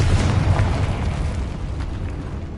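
A Confringo blast spell cast in Hogwarts Legacy: a loud, dense, rumbling explosion that holds steady for a couple of seconds and fades only slightly, with no voices.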